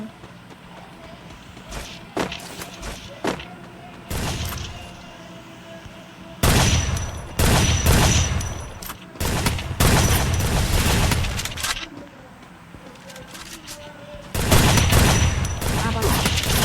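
Bursts of rapid gunfire come and go in clusters with short pauses between them, loud and punchy, with a game-like mix and some footsteps.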